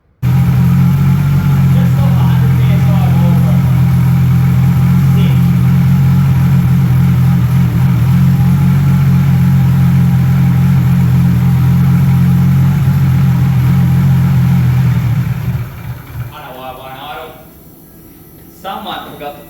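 A freshly built forged Nissan RB30ET turbo engine runs at a steady, loud idle on its first start, a strong low drone that holds for about fifteen seconds before cutting out, leaving quieter rattles.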